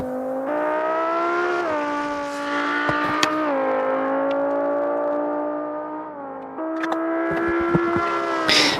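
A Formula 3 race car in BeamNG rounds the final corners of a Grand Prix, its high engine whine holding steady and then dropping and climbing again through gear changes, with brief clicks and knocks between.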